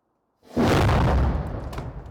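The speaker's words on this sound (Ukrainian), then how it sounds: "Це перше випробування ракетного твердопаливного двигуна." A solid-fuel rocket motor loaded with four kilograms of propellant fires on a test stand, bursting in suddenly as a loud, broad roar that holds steady and then tapers slightly while still burning.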